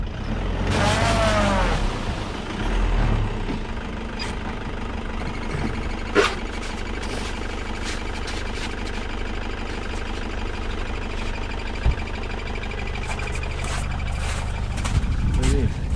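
A car engine idling and revving while hitched to a caravan on snowy ground in Kars, Sarıkamış, a steady low rumble running throughout, with people talking over it.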